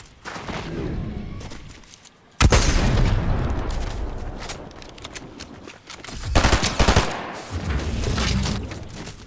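Gunfire from a Fortnite Chapter 5 ranked solo zero build match crackles in dense bursts of rapid shots and booms, loud and close, with short pauses between volleys.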